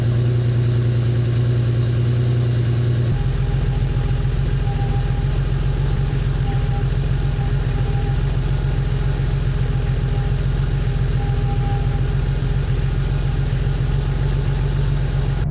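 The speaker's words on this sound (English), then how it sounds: "It's kind of like a howling sound, which is really quite prominent at idle." Classic air-cooled Porsche engine idling with a prominent howling tone, a loud steady drone with a low pulsing rumble that shifts in character after a few seconds, then holds constant throughout.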